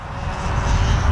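Control line stunt model airplane engine buzzing steadily at close range as the plane flies laps in circles, a continuous loud drone with no talk.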